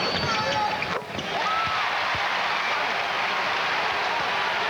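Basketball arena crowd at a 1994 NBA game, New York Knicks at the Philadelphia 76ers, raising a steady, dense roar and cheer with a commentator talking over it throughout.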